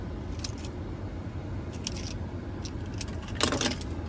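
The key fob of a 2025 Mercedes-Benz GLS 450 jangles close up in a few short, bright metallic bursts, ending with one louder rattle, over a quiet car cabin.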